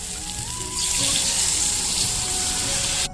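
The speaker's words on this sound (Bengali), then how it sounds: "পরিমাণ মতন জল দিয়ে দিচ্ছি" Water pours steadily into a pot of soybean curry, a continuous gushing splash that swells after a moment and stops abruptly at the end.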